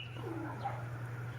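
A pigeon coos softly at a racing-pigeon loft, a low murmuring call held over a steady hum, with faint higher bird chirps in the background.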